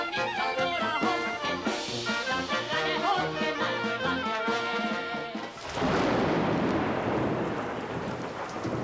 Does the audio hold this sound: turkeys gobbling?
no